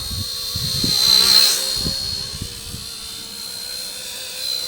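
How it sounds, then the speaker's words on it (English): A small WLtoys V931 AS350 RC helicopter's brushed tail motor whines steadily with a high, thin buzz that swells and eases, close by, with no one talking. "You can hear the tail motor trying to keep up."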